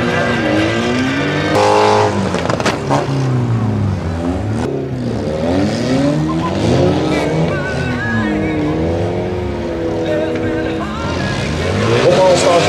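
Cars rev, accelerate and skid with tire squeals during a car football match on a field, loud engine sweeps rising and falling while a commentator talks over them.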